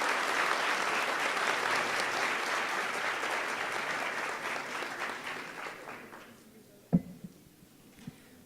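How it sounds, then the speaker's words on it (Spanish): An audience applauds panelists at an engineering programs network conference, with steady, dense clapping for about six seconds that then fades away, followed by a couple of faint thumps. "Por favor, un fuerte aplauso a los panelistas."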